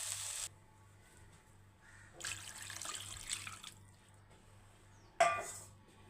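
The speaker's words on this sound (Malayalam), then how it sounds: "നമുക്ക് കുറച്ച് വെള്ളം ഒഴിച്ച് കൊടുക്കാം." Water is poured into a cooking pan for Maggi noodles with egg and vegetables in a home kitchen, coming as two soft splashing bursts with a short final splash, over a low steady hum.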